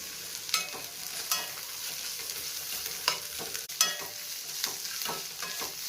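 Dried shrimp frying in a pan with ginger garlic paste and garam masala, a steady close sizzle broken by occasional scraping stirs and small pops.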